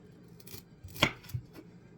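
Food is chopped for lunch meal prep, with a few sharp knife strikes on a board, one louder cut in the middle, close and brief against a quiet kitchen.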